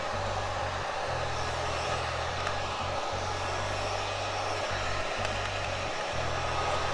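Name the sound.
hair dryer blowing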